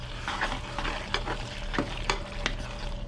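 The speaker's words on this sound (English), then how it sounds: "And now stir it all around." Spices and a thin pasta sauce being stirred in a pan, a close steady sizzle broken by repeated scraping spoon strokes at an even pace.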